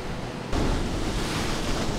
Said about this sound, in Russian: Волны бьют прямо в дома.